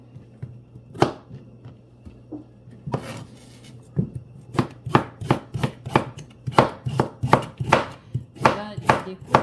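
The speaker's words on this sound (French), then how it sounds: "Là, je découpe mes carottes" Carrots being chopped with a knife on a cutting board, a few scattered cuts at first, then a quick regular series of sharp knocks, close and clear with no talking.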